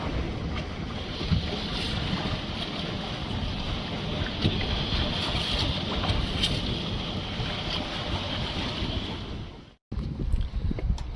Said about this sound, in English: These swells are quite intense. See that boat? It's also driving into them.